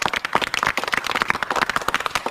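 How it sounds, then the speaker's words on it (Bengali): Audience applause for a prize winner at a lighthearted game event: dense, steady clapping from many hands, fairly loud and continuous throughout with no talk over it. "হাততালি হাততালি"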